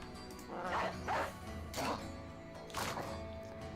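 Dogs in the video game Battle Brothers bark in four short, separate bursts, fairly close and loud over a steady background of game sound.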